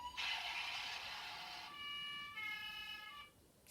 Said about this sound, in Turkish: Sonra siren sesleri var.